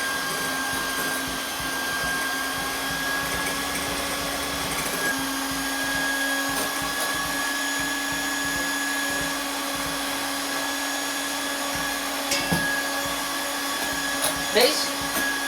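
A steady electric mixer whirs on slow speed through egg whites being scalded with a thin thread of hot sugar syrup for chocolate mousse, a constant even motor hum with a few faint clinks near the end.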